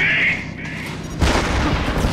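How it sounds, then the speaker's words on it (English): Gunfire in the video game Metal Gear Solid: a high electronic tone fades away, then a sudden loud boom-like burst of shots breaks in and leaves a rough, noisy rumble. "I just dodged gunfire"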